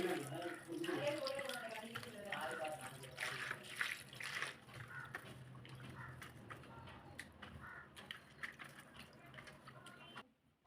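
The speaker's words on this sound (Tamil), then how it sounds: "அதில் மஞ்சத்தூள் உப்பு போட்டு நல்லா வாஷ் பண்ணி எடுத்துக்கோங்க" Chicken leg pieces are washed by hand in water with turmeric and salt, sloshing and trickling with intermittent clatter, while a voice talks over the first part.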